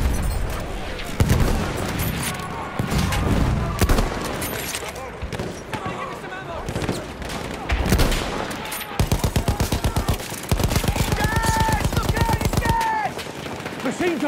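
Machine gun fire in the World War I shooter Battlefield 1, with scattered bursts early on and then long, rapid, evenly spaced rattling streams, loud and close. Soldiers' voices call out intermittently between the shots.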